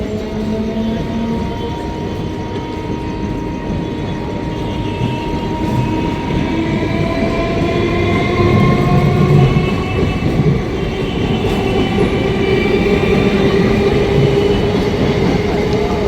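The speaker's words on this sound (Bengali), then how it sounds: "এইবার ট্রেন চলে যাচ্ছে একদম বামনহাটের উদ্দেশ্যে" Diverted express train rolling past on the rails toward Bamanhat, a loud continuous rumble with rhythmic wheel clatter and long ringing tones from the passing cars, steady throughout with no talk.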